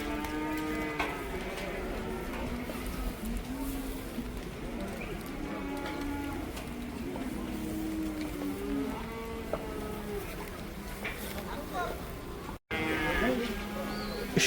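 At a cattle market, bull calves and cattle moo again and again, long wavering low calls overlapping, with a voice talking among them and a brief dropout near the end.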